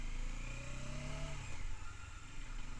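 A new motorcycle engine, run in second gear during break-in, pulls up moderately hard with a rising engine tone for about a second and a half, then eases off into a steadier, lower drone, close and fairly loud throughout.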